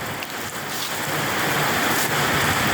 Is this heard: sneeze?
no